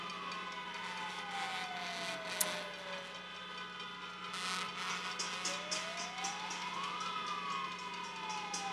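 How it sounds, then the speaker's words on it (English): A Good Humor ice cream truck passes outside during an outdoor university commencement ceremony, its rising and falling electronic siren-like tune sweeping slowly across a steady crowd and traffic background, moderately distant. "I think that's the good humor truck"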